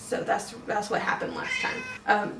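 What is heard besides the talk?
cat meowing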